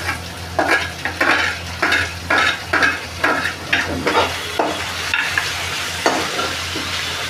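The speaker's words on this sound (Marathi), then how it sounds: "कांदा थोडा परतायचा." Onion sautéing in a pan for tikhat shira, a steady sizzle with rhythmic scraping strokes of a spoon stirring through the pan, close and fairly loud.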